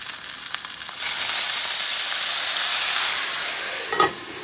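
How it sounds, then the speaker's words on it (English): Loud, steady sizzling of paprika chicken frying in a hot pan, a bright crackling hiss that swells after a moment, with a small clink near the end. "when that sizzle stops, we're going to lift the lid"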